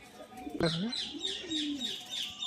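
Fancy pigeons with heavy, closed tails coo close by in low, rolling phrases, with thin high chirps overhead and a faint voice now and then.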